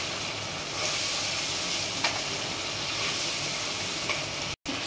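Ground cumin, chili powder and chopped tomato fry with a splash of water in a pan for an eggplant curry, giving a quiet, even hiss that runs throughout with a couple of faint stirring taps and a brief dropout near the end.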